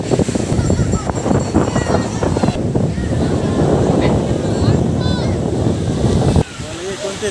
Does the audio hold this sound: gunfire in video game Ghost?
no